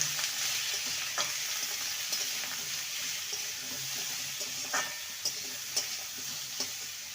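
Vegetables for a drumstick curry, seasoned with salt and turmeric, fry in a pan with a quiet, continuous sizzle broken by periodic spoon scrapes and taps.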